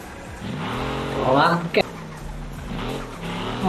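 A white Defender driven in the Car Parking Multiplayer game, its engine hum running steadily with a brief sharp burst midway, while someone talks over it throughout.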